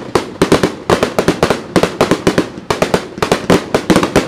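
Loud, continuous volley of fireworks shells exploding at the Tottori city summer fireworks festival, fired from three sites across the river, a steady rhythm of sharp booms with crackling tails packed tightly together.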